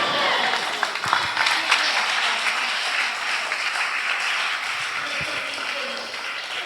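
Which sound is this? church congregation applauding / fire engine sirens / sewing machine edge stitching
church congregation applauding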